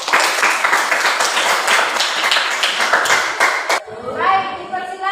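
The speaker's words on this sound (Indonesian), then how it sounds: "silakan untuk tepuk tangan ke kelompok 1" A classroom group claps for a presenting group, a dense burst of hand claps that cuts off abruptly near the end, followed by a brief voice.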